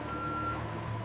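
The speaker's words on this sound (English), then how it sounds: "At last, the truck reaches the dedicated facility where transformation truly begins." A truck arrives at a plastic-bottle recycling facility, its reversing alarm sounding a steady tone over a continuous engine rumble.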